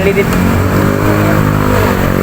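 Honda Beat motor scooter running on unleaded fuel, its steady mid-pitched engine drone continuous and close, with voices talking over it throughout.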